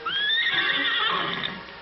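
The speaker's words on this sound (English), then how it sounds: "and the wild horses." Wild horses whinny in an old animated film, a single loud, drawn-out neigh with a rising then wavering pitch lasting nearly two seconds, heard alone without talk.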